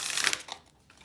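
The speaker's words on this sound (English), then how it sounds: "I like how they shuffle." Sage Goddess tarot cards riffle in a quick, papery shuffle, a dense burst of close crisp flicking that trails off into a couple of soft taps.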